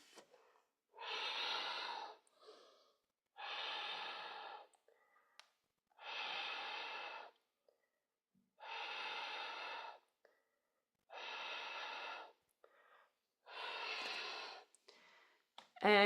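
Slow, deep breaths during a yoga squat, seven long even breath sounds spaced by quiet gaps, close and clear, with faint small movement noises in between.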